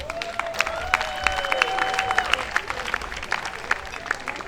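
Scattered clapping and light cheering rise from an audience at a Juneteenth community event in Hyde Park, Boston, moderately loud and fading in and out, with a drawn-out whistle or shout over the top.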